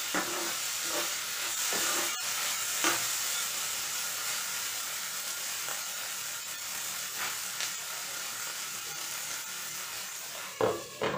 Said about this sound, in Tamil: தக்காளி போட்டுட்டு நல்லா அதுவும் வதக்கி விட்டுட்டு